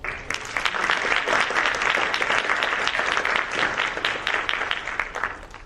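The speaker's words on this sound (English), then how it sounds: "Please join me in another round of applause." Steady applause from a sizable crowd at a student body address, dense clapping that holds throughout and gently tapers at the end.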